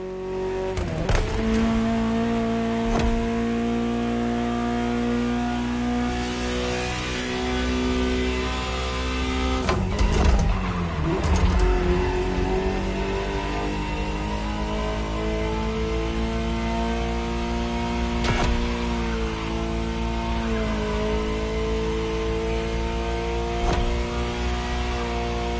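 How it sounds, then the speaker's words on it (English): Ferrari supercar engine in a PS4 racing game, a steady droning engine note that climbs and shifts through revs over a long stretch, with a few sharp clicks and a rough surge near the middle. "Just listen to the car you're driving."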